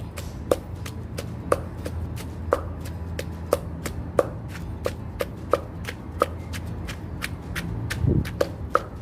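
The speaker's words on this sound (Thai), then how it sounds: "วันนี้ก็จะตำน้ำพริกขี้กาแบบง่ายๆนะคะ" Nam prik khi ka chili paste being pounded by hand in a mortar, a steady run of sharp, close thuds repeating about twice a second, alone with no talk.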